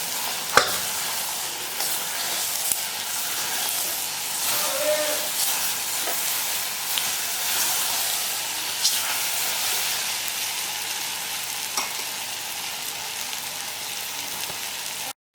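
Bottle gourd (doodhi) curry is stirred in a hot pan on the stove, with continuous sizzling and hissing under scattered scraping and clinking of a spoon. The sound stays fairly loud and close, and no one talks.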